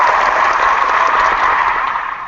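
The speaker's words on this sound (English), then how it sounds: "I like how the applause begins" Audience at a meeting breaks into applause, a loud, close burst of clapping that holds steady and starts to thin out near the end.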